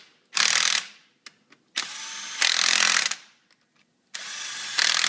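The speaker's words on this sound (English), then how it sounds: "we're going to semi-tighten our bolts here again" A power driver tightens bolts on an installation in three long whirring bursts, separated by a few sharp clicks and short pauses.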